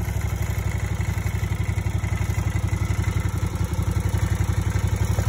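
A zero-turn mower engine, a hydrostatic Scag, running at low idle nearby, a steady loud rapid chugging throb with mechanical clatter, no voices.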